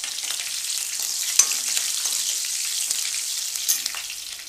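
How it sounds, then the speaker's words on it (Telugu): Onion and green chili pieces fry in hot oil with cumin seeds, a steady close-up sizzle with a few sharp crackles and occasional stirring clinks, no voices. "ఉల్లిపాయ, పచ్చిమిర్చి ముక్కలు,"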